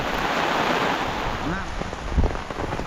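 Heavy continuous rain driven by strong wind, a dense roaring wash with gusty buffeting against the microphone throughout, plus a few low thumps near the end.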